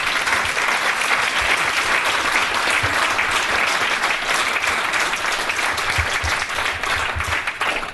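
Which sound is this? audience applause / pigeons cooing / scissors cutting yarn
audience applause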